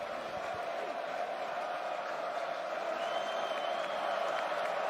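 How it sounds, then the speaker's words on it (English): Capacity sellout crowd roaring steadily at First Bank Stadium for a Vanderbilt vs Virginia Tech football home opener, a dense distant wash of cheering and applause with a whistle-like tone rising near the end. "Capacity crowd at First Bank Stadium. Home opener, the sellout."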